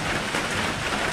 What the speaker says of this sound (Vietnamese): Trời mưa xuống luôn rồi mọi người.